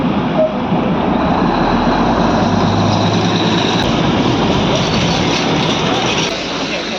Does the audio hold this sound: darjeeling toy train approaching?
yes